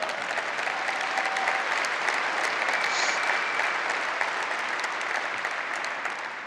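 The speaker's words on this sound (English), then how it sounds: "you can applaud for him on that." Sustained audience applause at a technical cloud data demo, an even, dense roar of many hands clapping throughout with no speech over it.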